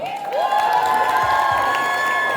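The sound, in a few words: audience applause and cheering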